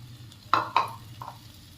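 Chawli (cowpea) pods are dry-roasting in a pan, heard as two or three short, close scraping stirs with soft crackling over a low steady hum, and no voices.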